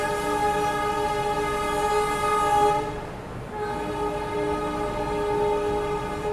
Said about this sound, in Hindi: इसी बीच में ब्रह्मपुत्र मेल जो कि दिल्ली की ओर जा रही है प्लेटफॉर्म संख्या 1 पर अभी आई है